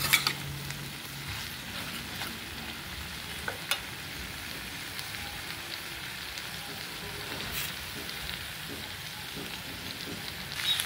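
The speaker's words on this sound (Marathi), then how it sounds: "छानपैकी आपलं कारलं परतून झालं आहे" Bitter gourd (karela) sautéing in a pan gives a steady, soft sizzle with occasional faint stirring clicks, continuous and fairly quiet throughout, with no voices.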